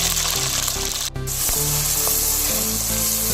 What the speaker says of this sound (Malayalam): അതിലേക്ക് ഒരു 10 മണി ചെറിയ ഉള്ളി, 2 പീസ് ഇഞ്ചി, ഒരു 7 അല്ലി വെളുത്തുള്ളി, 3 പച്ചമുളക് ചേർത്ത് വഴറ്റിയെടുക്കാം.